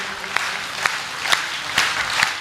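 Audience applause at a Hindi poetry recital, sounding as a steady wash of clapping with a few sharper swells at regular intervals and no voices.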